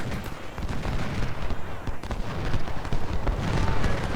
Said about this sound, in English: 12 pounders, please shoot at Banning, and 20 pounders, can you snipe the enemy supplies?